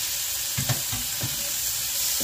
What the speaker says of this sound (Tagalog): Gisahin lang natin siya at isusunod natin yung pagkaluto ng ating kamatis, sibuyas at garlic